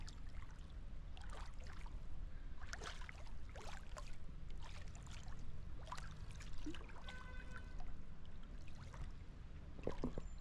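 River in Skopje, Macedonia, an ice-cold swimming spot, heard as a faint low rush of flowing water with soft trickles and scattered light splashes nearby, no speech.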